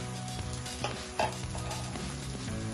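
Tomato pieces for a prawn masala curry frying and softening in a pan, a steady close sizzle broken by a couple of quick stirring scrapes, with no voices.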